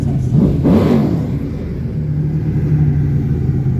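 A Lamborghini V12, twelve-cylinder Italian supercar at a Blenheim Palace concours showcase, revs briefly in a loud surge and then settles into a steady, close idle rumble.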